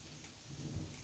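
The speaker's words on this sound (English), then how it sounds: "Can you hear the thunder?" Thunder rumbles low beneath steady rain during a town walk, swelling louder toward the end of the short stretch.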